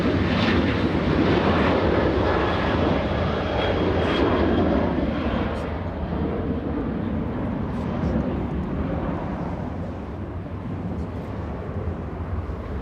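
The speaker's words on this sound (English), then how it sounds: "So we have a CRJ flying in from Seattle and Virgin Atlantic flying in from London." Airliners fly in to land at LAX airport, including a CRJ regional jet and a Virgin Atlantic jet, a loud broad jet-engine roar that slowly fades as the aircraft passes.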